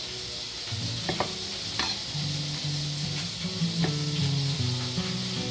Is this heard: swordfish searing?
yes